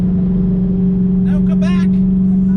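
A 1,000-horsepower Hellcat Redeye with upgraded pulleys and a fuel change approaches with a loud, steady low engine drone. Brief vocal sounds come through partway in.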